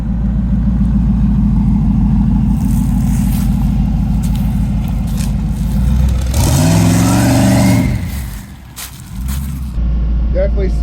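A twin turbo Camaro on its first street drive idles with a heavy rumble, then revs up sharply and drops back, with people talking around it.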